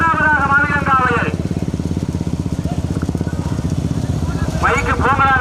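Motorcycles rev and pass at a bullock cart race in Pudukkottai, with a loud, steady, pulsing engine drone through the middle. An announcer talks over a loudspeaker at the start and end.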